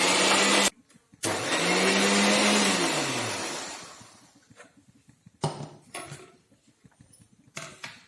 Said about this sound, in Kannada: ಈ ಥರ ಚೆನ್ನಾಗಿ ನೈಸಾಗಿ ರುಬ್ಬಿಕೊಳ್ಳಬೇಕು